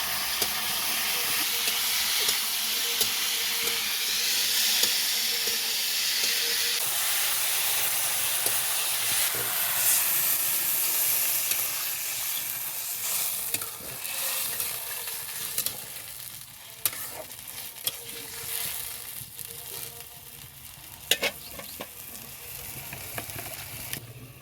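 Potatoes, tomatoes and pumpkin bori fry for a rohu fish curry, giving a steady close sizzle and hiss throughout, with occasional scraping stirs and clinks of a utensil in the pan.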